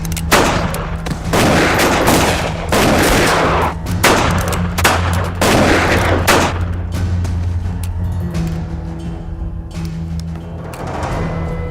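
Heavy bursts of gunfire crack repeatedly in rapid volleys during a film shootout, loud and close, over a low steady rumble, then taper off into quieter background noise.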